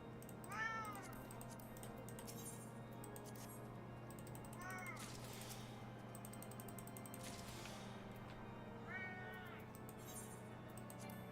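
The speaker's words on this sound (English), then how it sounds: "My cat is going bonkers." A house cat meows three times, spaced several seconds apart, faint and somewhat distant over a steady low hum.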